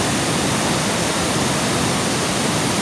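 Heavy, even roar of the large Kaeng Sopha waterfall in Wang Thong district, Thailand, late in the rainy season: continuous hissing white water at close range, unchanging throughout, with no one talking.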